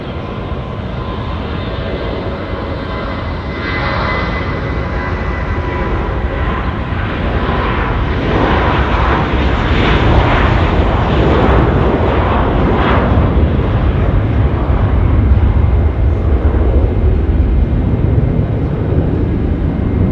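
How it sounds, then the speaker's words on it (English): An Air New Zealand airliner on its takeoff roll from runway 23 at Auckland Airport, bound for Wellington: a loud, steady jet engine roar that builds and swells over twenty seconds, with no talking. "New Zealand 481 off to Wellington. Now just about to rip it off here, runway 23."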